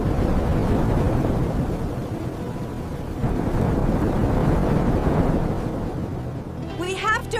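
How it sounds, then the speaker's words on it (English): A storm with thunder and rain, a heavy continuous rumbling roar with gusty wind noise throughout, ending in a short burst of higher-pitched sound. "Oh no! The storm is coming!"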